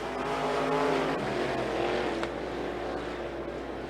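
IMCA Sport Mod race cars roaring around a dirt oval at Sunset Speedway during a heat race, a dense steady engine drone from several cars at moderate distance.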